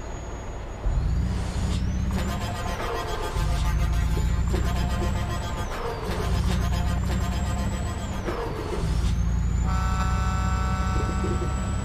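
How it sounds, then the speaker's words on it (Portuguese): Scania 730S V8 truck horn in Euro Truck Simulator 2, several long loud blasts over a deep steady engine drone, with brief pauses between toots. "Cara, que buzina top essa"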